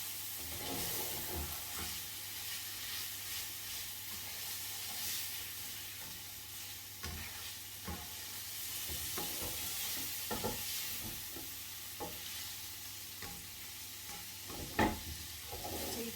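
Soft, continuous sizzling of garlic in a pan with a faint hiss, dotted with light clicks and scrapes of stirring, no voices.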